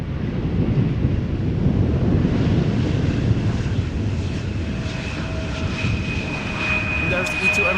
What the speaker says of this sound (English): And there's the E2 Embraer going to the center runway.